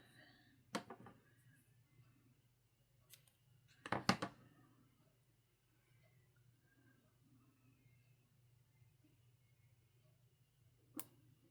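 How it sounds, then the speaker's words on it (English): Scissors cutting a sheet of paper in half for a planner page, with a few quiet, sharp snips spread over a near-silent room and one brief cluster of cuts in the middle. "I'm going to cut it in half."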